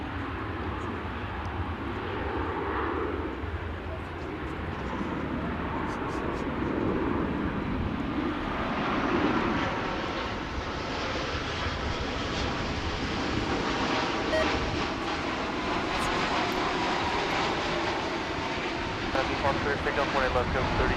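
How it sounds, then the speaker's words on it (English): A Turkish Airlines Dreamliner makes a go-around on approach at DFW airport, its engine roar building into a broad, sustained rumble over about twenty seconds, with wind noise and someone talking over it. "Airlines Dreamliner, which made a go-around on its initial approach to DFW on the east side of the airport."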